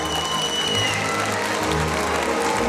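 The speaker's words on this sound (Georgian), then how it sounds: "თუ ასია დამიდასტურეთ აპლოდისმენტები." Steady applause from a festival audience at a folk ensemble competition in Kutaisi, Georgia, an even, continuous patter of many hands at moderate level with no speech over it.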